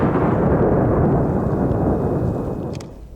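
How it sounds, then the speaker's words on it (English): A controlled blast goes off during hand-tool mountain work in freezing cold, a loud sustained rumbling roar that fills the air for about three seconds and then tails off, with no voices. "The odd controlled explosion."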